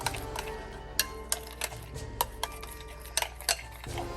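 Hair moisturizer oils are stirred together in a container, giving light scattered clinks and taps of a utensil against the vessel over a quiet background, with no talking.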